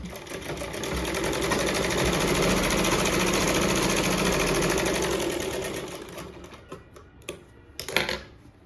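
A sewing machine hums loud and steady as it stitches a sleeve joint, running for several seconds before slowing and stopping, followed by a few scattered clicks and handling sounds.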